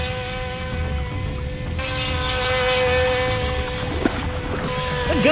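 A small BEZGAR TX123 RC boat motor whines steadily with a high buzzing drone, rising and shifting in pitch, with water splashing faintly underneath.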